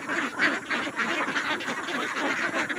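A flock of domestic ducks quacks continuously and densely, many overlapping calls close by in a free-range setting with no pauses.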